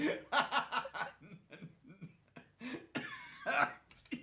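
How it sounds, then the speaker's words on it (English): A person coughing in a rough, repeated fit, several harsh bursts mixed with throaty chuckling, close up during a tabletop game session. "I'm gonna have a coughing fit now"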